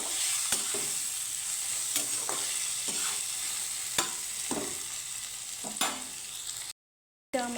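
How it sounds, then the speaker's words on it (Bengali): Turmeric and salt frying in a pan for a vegetarian taro-stolon dish with mustard, a continuous close sizzle broken by repeated scraping stirs of a utensil, no talking. "ভালোভাবে হলুদ নুনের সাথে একটু ভাজা ভাজা করে নেব"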